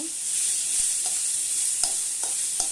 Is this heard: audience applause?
no